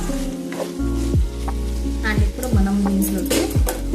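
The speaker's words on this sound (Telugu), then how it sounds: "ఈ విధంగా క్యాప్సికమ్ అంటే మనం ఫ్రై అయిపోతూ ఉంటుంది ఇలా మధ్య మధ్యలో కలుపుతూ ఉండండి" Capsicum frying in a pan for a masala curry, a loud, close sizzle running underneath louder tonal, voice-like sounds that rise and fall.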